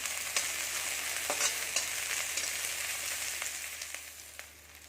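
Green chillies are stirred into onion, tomato and spices frying in an iron wok, with a soft continuous sizzle punctuated by regular scraping and tapping of a spatula, fading slightly toward the end.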